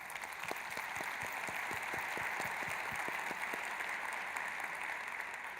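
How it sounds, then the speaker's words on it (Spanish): An audience applauds at a shoe and leather goods industry anniversary celebration, with steady clapping and a handful of distinct, louder nearby claps standing out against the crowd. "lo único que merece es un aplauso Luis F. Vélez"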